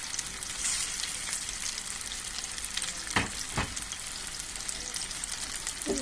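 Chicken gola kababs fry in oil with a dense, even sizzle and crackle, broken by two brief sharp scraping clicks near the middle; no talking.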